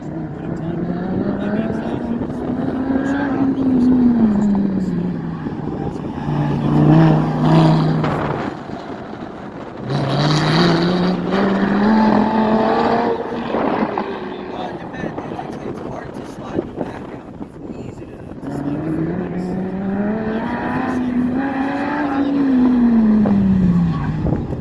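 A Lamborghini is driven hard on a track, its loud engine revving up through rising gear pulls, dropping between shifts and climbing again across several runs, while people talk over it.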